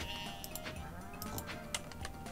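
Farm animals call in the video game Stardew Valley, with bleating cries repeating over a soft game background and a few light clicks.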